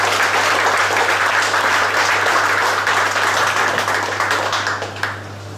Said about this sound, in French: on peut l'applaudir, c'est lui qui est à l'honneur ce soir.